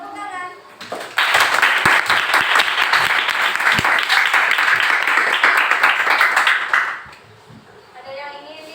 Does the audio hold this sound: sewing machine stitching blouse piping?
no